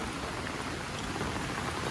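Heavy monsoon downpour in the Konkan region, a dense, steady roar of rain that stays loud and even from start to finish with no voices.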